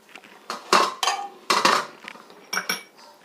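A metal three-hole murukku mould is handled and fitted into a press, making several close, loud metallic clanks and clinks in irregular bursts, with short quiet gaps between them.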